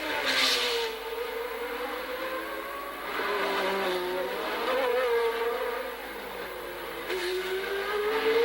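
A turbocharged 1981 Ferrari Formula 1 car accelerates uphill at Monaco, its engine rising and holding a loud, strained whine through successive pitch climbs, heard from a trackside broadcast.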